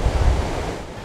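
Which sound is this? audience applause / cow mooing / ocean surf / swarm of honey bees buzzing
ocean surf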